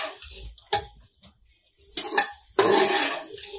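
A metal spoon clatters and scrapes in a pot of mutton masala gravy in a home kitchen, in short, irregular bursts of clinks and stirring scrapes.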